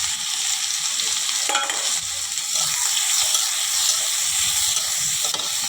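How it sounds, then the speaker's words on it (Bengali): Chopped onions fry in hot oil in a pan, giving a steady, close hiss and crackle that holds for several seconds, with faint stirring scrapes and no voices. "এটা আগে ভেজে নেবো"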